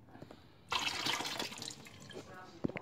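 Water starts flowing suddenly from a juicer or tap setup, a bright splashing rush that gradually thins, with a few drips and a knock near the end.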